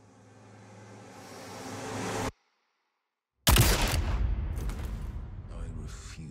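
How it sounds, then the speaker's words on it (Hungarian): Loud gunfire in a video game bursts in sharply after a second of silence, preceded by a rising rumble and followed by sustained noisy crackle and effects. "Uldren elvéve fegyverét azzal viszi be a végső lövést."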